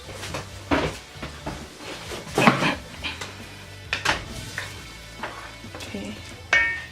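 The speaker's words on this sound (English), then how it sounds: "you're just gonna mix your pot, stir it." Oxtails with marinade, onions and thyme are stirred in a pot, giving irregular scraping and clanking of a utensil against the pot over a low sizzle, with loud knocks at intervals.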